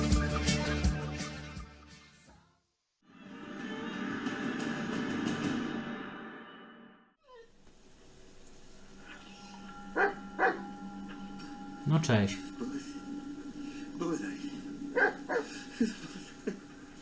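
A dog in the video game Blair Witch barks and yips in short, scattered bursts partway through, heard under people talking and game ambience.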